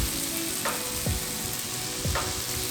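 Spice powders, coriander and turmeric among them, fry in a pan for a tamarind okra curry and are stirred. A steady sizzle runs under a few scraping strokes of the spoon, close up and with no talking.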